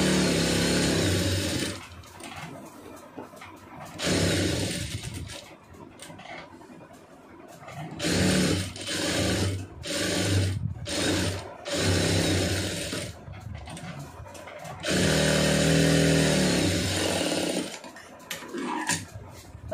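A sewing machine stitches a blouse lining in bursts, running with a steady whirring hum for a few seconds, pausing, then starting again several times at close range.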